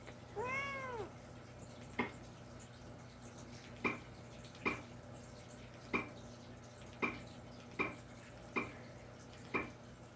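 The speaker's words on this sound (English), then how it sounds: "Wherever the kitty is, right there." A cat lets out a single close, rising-and-falling meow at the start, followed by regular faint ticking clicks in a quiet room.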